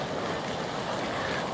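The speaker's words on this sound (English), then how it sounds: "you get the spitting and the steaming" Geysers at El Tatio, Chile spit and steam in a steady, broad hiss and rush, continuous and fairly loud throughout with no voices.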